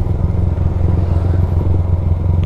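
A big motorcycle's engine drones loud and close as it rides over a rough mountain road in Batangas beside the sea, with a steady low rumble and faint rattling clatter throughout.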